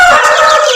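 A Bangkok fighting rooster gives a single loud, close crow, brief and strained, with no other sounds around it.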